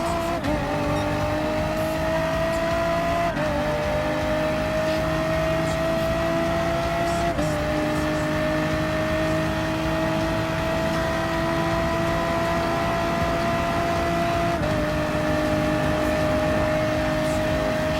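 A race car engine in Gran Turismo Sport holds a loud, steady high-revving whine that climbs through each gear, with three or four brief dips at the shifts, close and continuous throughout.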